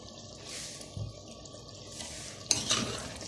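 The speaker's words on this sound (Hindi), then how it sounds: "इसको थोड़ा सा चलाया" A spoon stirs salt, red chili powder and ginger-garlic into boneless chicken in a handi pot, soft scraping and wet shuffling sounds, quiet and close with a brief louder clatter near the end.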